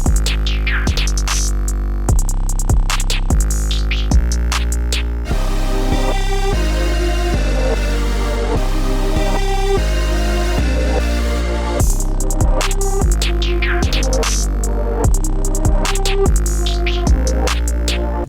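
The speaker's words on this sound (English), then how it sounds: "And then it's got those same hi-hats and kicks." A produced hip-hop beat loops with booming 808 bass, punchy kicks and crisp ticking hi-hats, plus melodic tones that drop out briefly midway, loud and continuous with no voices.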